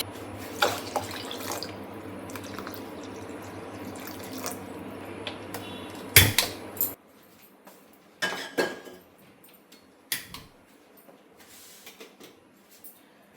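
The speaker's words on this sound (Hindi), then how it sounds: "पानी बहुत ज़्यादा डालती हूँ मैं क्योंकि ये थोड़ा ज़्यादा देर तक पकेगा" Water pours into a cooking pot of vegetables in a home kitchen, a steady splashing stream with faint clinks of metal cookware and a few sharp knocks as the pouring stops.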